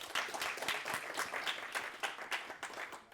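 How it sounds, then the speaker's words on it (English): A conference audience applauds a speaker after a talk on scaling open source communications with SBCs, a modest group clapping in a soft, uneven patter that sounds fairly quiet and close. "So, everyone give Alan a round of applause."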